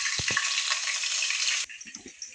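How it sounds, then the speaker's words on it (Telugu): Onion and green chilli sizzle loudly in hot oil in a pan, a bright steady hiss with a couple of low knocks, then the frying drops away into quieter clatter. "ఇది బాగా కలుపుకోవాలి కొద్దిగా ఒక్క నిమిషం వేపుకోవాలి"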